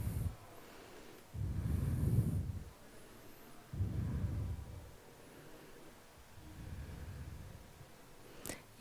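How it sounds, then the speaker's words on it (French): Slow, deep breaths during a yoga session, heard as three or four soft, close inhales and exhales in an otherwise quiet room. "encore 3 belles respirations"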